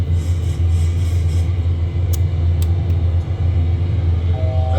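Aircraft engines in a home flight simulator cockpit spooling up at takeoff throttle, a loud steady low rumble with a constant drone and a few faint clicks over the top, no one speaking.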